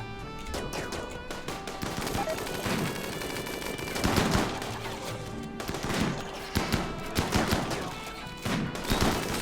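Rapid bursts of gunfire in the video game RimWorld, overlapping shots and automatic volleys cracking out in clusters against a layered in-game soundscape, loud and dense throughout.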